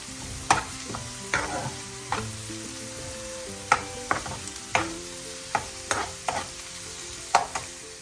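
Spices and green chillies are stirred in a frying pan for bitter gourd mezhukkupuratti, with a steady sizzle under repeated sharp scrapes and taps of the spoon coming irregularly, close by and without talk.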